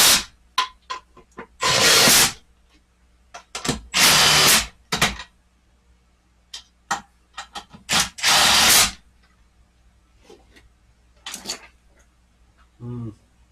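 An impact wrench drives a part on a KL Protege5 six-speed transmission during final assembly, with several loud short bursts of hammering rattle between quieter clicks and handling noises, close up.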